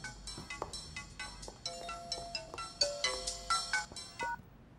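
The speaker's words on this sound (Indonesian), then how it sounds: "Telepon lagi." A telephone ringtone rings in repeated bursts of bright melodic tones, filling the short moment with no speech over it.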